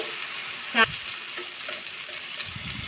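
Korameenu fish curry with chapa kanda sizzles steadily in a pan, with a spoon scraping and stirring the mixture at close range and no talk.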